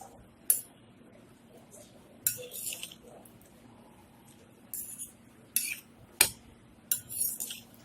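Utensils clinking and scraping against a bowl while tossing salad for shawarma, with several sharp metallic clinks in irregular bursts over a quiet background.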